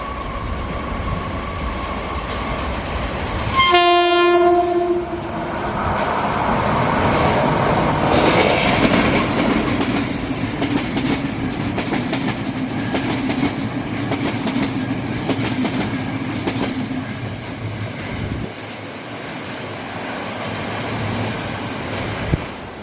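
A train on Taiwan's Pingxi Line rolls past near Sandiaoling, opening with a high-pitched horn blast, then rumbling and clattering loudly over the rails with squealing wheels before fading; no one speaks.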